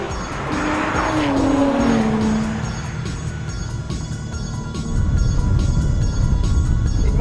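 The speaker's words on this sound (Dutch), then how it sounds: "hij gaat door tot aan 8200 toeren en oh, wat klinkt dat ding goed zeg" A Porsche 997 GT3 RS engine revs hard toward its 8200 rpm limit on a test drive, rising in pitch, then a gear change and renewed loud, close acceleration.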